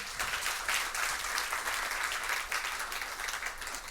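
An audience at a high school competition applauds steadily, a dense wash of clapping that holds at an even level throughout.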